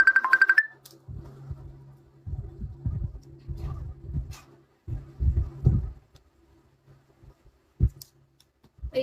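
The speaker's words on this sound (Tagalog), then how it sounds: "Wait lang, tumatawag si Bri." A phone ringtone for an incoming call from a classmate gives a short melodic burst at the start, followed by scattered quiet clicks and handling taps.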